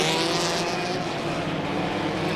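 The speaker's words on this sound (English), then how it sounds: "limited buggy 1600 desert car race" A Limited Buggy/1600 desert buggy roars past at a short course race, its engine a loud, dense, continuous drone at close range.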